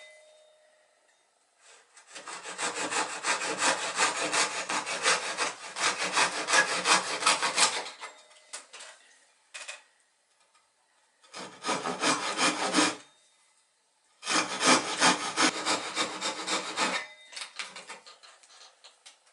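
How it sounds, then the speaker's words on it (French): A Japanese-style hand saw rasps steadily through a wooden board in long rhythmic bursts of strokes, close up, separated by short pauses. "On va découper l'arrière pour pouvoir encastrer"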